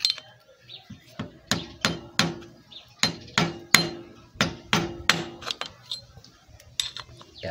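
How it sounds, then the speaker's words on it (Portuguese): A hammer strikes a hard washer to bend it against a nut on a Yamaha YBR Factor 125 motorcycle gearbox shaft, sharp metallic taps in irregular clusters of about twenty blows, close and ringing, with no talk. "Eu vou bater ela, que ela vai travar aqui nossa porca."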